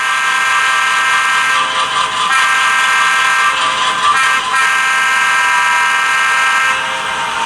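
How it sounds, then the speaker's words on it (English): A ScaleTrains Dash 9 model locomotive with an ESU LokSound 5 sound decoder blows its horn, a loud, steady multi-tone chord sounding continuously and close throughout, with slight wavering. "When I blow the horn, they should not flash."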